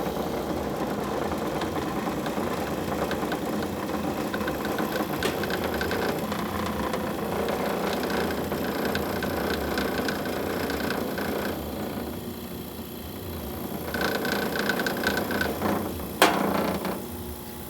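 A 1953 Magic Chef 9,000 BTU room air conditioner with a Tecumseh B series compressor, mounted tilted back, hums and rattles steadily close by, with a few sharper clicks and knocks near the end and no talking.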